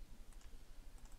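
Quiet, quick taps on a computer keyboard, a short burst of irregular keystrokes heard close up against faint background hiss.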